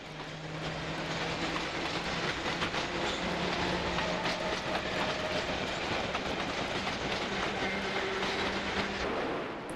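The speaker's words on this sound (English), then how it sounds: "a Stanmore-bound train leaving Finchley Road" A London Underground train on the Stanmore branch rumbles steadily as it pulls away from Finchley Road station, a continuous mechanical roar with faint wheel clatter and a thin whine riding on top.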